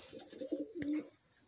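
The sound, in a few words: imported bloodline Teddy pigeon cooing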